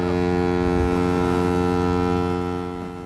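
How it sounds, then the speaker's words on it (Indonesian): A ship's horn sounds a long, loud, steady blast that holds its deep tone for about three seconds and then starts to fade, with wind noise around it. "Dan tiba-tiba terdengar suara klakson dari satu kapal."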